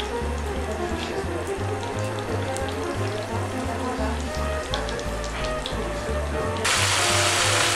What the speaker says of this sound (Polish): Zrazy obtaczamy w mące i wrzucamy na rozgrzany tłuszcz.